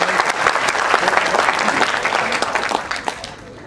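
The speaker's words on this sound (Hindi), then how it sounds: "एक बार मन कर रहा है तो तालियां बजा दीजिए आप।" Listeners at a Hindi comic poetry gathering break into brisk, loud applause that runs steadily for a few seconds before tapering off.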